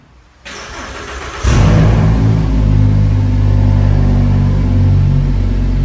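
Volkswagen Jetta five-cylinder engine with a straight-through exhaust cranks and catches after a brief quiet start, then settles into a loud, deep, steady rumble close by.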